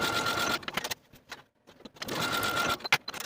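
A sewing machine stitches fabric side seams in two loud, fast runs of rapid clatter separated by a pause with a few soft handling noises.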